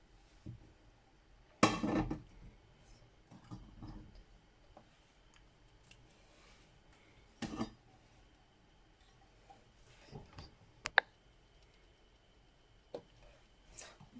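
A frying pan handled in a home kitchen, with scattered metallic clanks and knocks, a few louder bumps and soft taps between quiet pauses.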